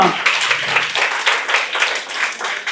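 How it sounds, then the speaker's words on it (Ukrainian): An audience at a corporate awards ceremony claps together in a dense, lively burst of applause, loud and close with rhythmic surges throughout. "Аплодуємо."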